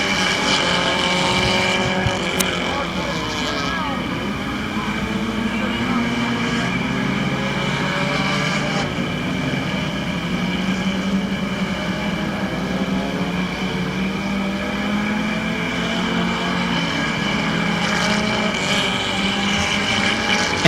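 Race cars roar around the oval at Barberton Raceway Park, a steady loud engine drone with rising and falling tones as the pack passes, continuous throughout.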